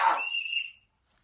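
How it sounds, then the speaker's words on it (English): A shrill referee-style whistle blast drops into a sports talk show about the Chicago Bears. It is a single bright tone lasting under a second, loud and alone, ending abruptly into silence. "Can I get a whistle?"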